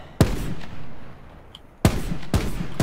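Gunfire in Call of Duty Black Ops 4 Blackout, three loud, sharp shots, one alone followed by a pair close together, each trailing off with a brief echoing tail.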